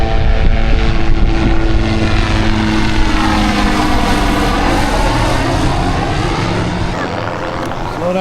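A helicopter flies low over a fishing pier at Pismo Beach, its loud rotor chop and engine roar close and steady, slowly fading toward the end.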